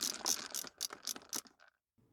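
Screws driven in by hand to fix a temperature sensor to an interior trim panel on a Ford Mondeo Mk3, a quick run of close, quiet ratcheting clicks that stops abruptly into near silence.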